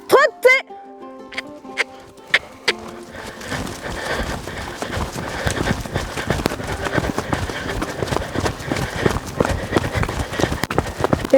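A horse named Gina trots on long reins, a steady rhythmic clip-clop of hooves close by that runs almost throughout, with brief voices and sharp sounds at the start.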